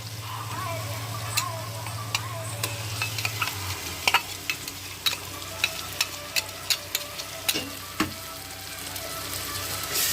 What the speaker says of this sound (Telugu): అల్లం వెల్లుల్లి పేస్ట్ కూడా వేసేసుకొని బాగా తిప్పేసుకున్నాం బాగా కలిసేలాగా తిప్పేసుకోవాలి